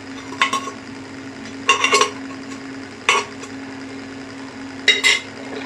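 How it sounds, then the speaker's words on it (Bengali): A spoon scrapes and clinks against a wok while egg tarka is stirred, giving a few short metallic clatters in spaced clusters over a steady low hum. "তারপর পুরো তড়কাটাকে নেড়ে দেবো আর একবার"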